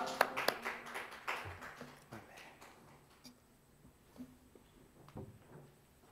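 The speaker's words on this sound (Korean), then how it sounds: "하나님께 영광의 박수 올려드리시겠습니다." A church youth-group congregation at a worship service claps in applause, a burst of loud, dense handclaps at the start that thins into scattered, fading claps and taps.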